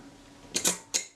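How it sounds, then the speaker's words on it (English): A few crisp mechanical clicks of a Voigtlander Perkeo II film camera shutter releasing, close up in a quiet room, the last click separated by a short pause. "Shutter releases."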